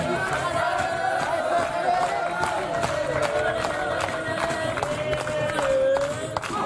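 A crowd at a table tennis match venue in Rouen makes steady loud cheering and chanting, with clapping and drumming-like beats throughout and a voice faintly underneath.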